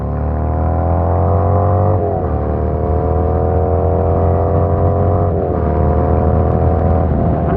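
Harley-Davidson Sportster 1250 motorcycle engine running steady and loud, its pitch rising, dipping briefly at each gear change, then climbing again as the bike accelerates away.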